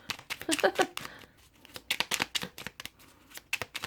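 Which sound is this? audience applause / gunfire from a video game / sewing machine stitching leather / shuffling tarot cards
shuffling tarot cards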